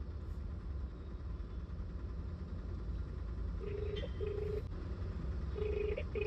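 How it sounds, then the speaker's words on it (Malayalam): An unanswered outgoing phone call rings from inside a taxi in Kochi, with short repeated ringback tones in the second half over a steady idling engine. "വിളിച്ചിട്ട് ഫോൺ പോലും എടുക്കല."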